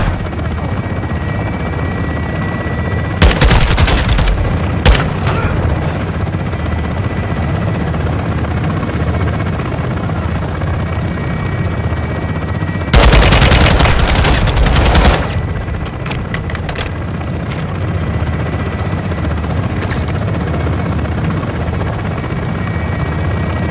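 Gunfire in the Call of Duty Modern Warfare II campaign, two loud dense bursts a few seconds long over a steady helicopter rotor drone that runs throughout, with no talk.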